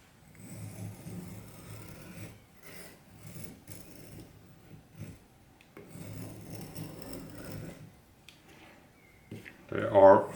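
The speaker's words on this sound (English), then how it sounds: "we are at least making some much finer feathers using this piece of wood than the last one" A Cheburkov knife shaves fine feather sticks from wood in repeated rasping strokes that come in short bursts, near and moderately loud, with a brief louder scrape at the end.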